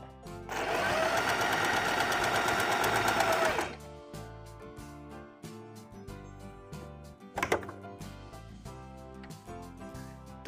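Wonder Stitch Plus embroidery sewing machine stitching in place at zero stitch length: a fast, loud mechanical whirr for about three seconds, then stops, followed by scattered clicks and handling sounds.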